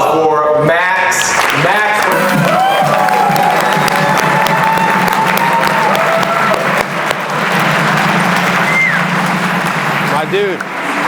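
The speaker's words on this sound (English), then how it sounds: "Big round of applause for Max." Conference audience in Asheville, NC breaking into loud sustained applause and cheering that fills the room, with voices and shouts mixed in throughout.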